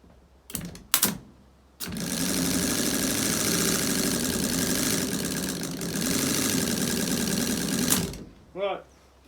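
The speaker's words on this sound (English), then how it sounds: "It's the starter motor that's no good." Starter motor cranking a Petter three-cylinder air-cooled diesel generator, a loud, steady, rapid whirring churn lasting about six seconds, with brief bursts of knocking before it and a short voice afterward.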